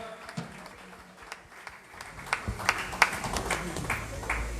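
A church congregation applauds at a celebration, praising the Lord. Scattered claps start faintly and grow into denser, louder clapping under a talking voice.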